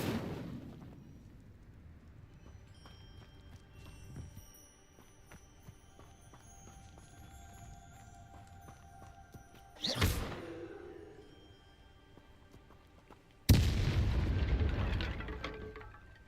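The Incendio fire spell cast in a video game, with two sudden whooshing blasts of flame that flare loud and close, a quieter game background between them and no talking.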